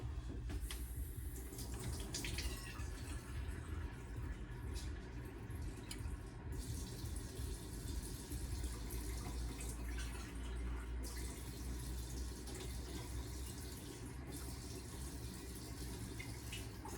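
Water running from a kitchen sink tap to fill 1.5 cups, a faint steady hiss and splash lasting throughout, quiet and continuous with no talk.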